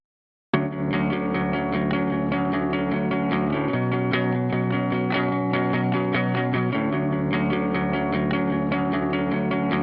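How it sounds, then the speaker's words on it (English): Steady electric guitar chords run with a light, grainy fuzz distortion, sustained and continuous for several seconds, with a slight chord change midway. "just like a little bit of fuzz, I think, maybe a little bit of just distortion"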